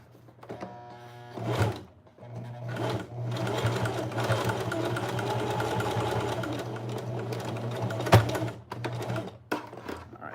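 A sewing machine stitches through thick denim jeans, its steady motor hum and rapid needle chatter running close and loud for several seconds between short pauses and sharp clicks.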